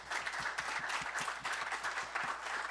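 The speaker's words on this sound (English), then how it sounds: "you can clap" Applause at a city council meeting after a police sergeant's swearing-in, moderate scattered clapping from a small room, brief and steady.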